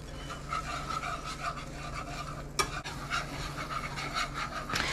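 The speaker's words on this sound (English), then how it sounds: "Now while I'm whisking in the background" A roux of butter and flour being whisked in a pan, a steady close scraping and swishing with a rhythmic beat and a soft sizzle beneath, with no talk.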